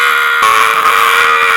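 A woman's shrill, sustained scream from the comedy Hot Pursuit, loud and close, holding steady for over a second and a half with no talk.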